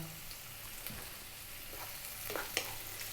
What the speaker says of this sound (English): We're going to stir this around on a medium heat for about 3 or 4 minutes.